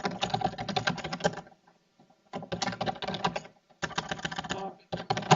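Fingers typing on a computer keyboard in three bursts of rapid, close clicking, separated by short pauses, with no talking.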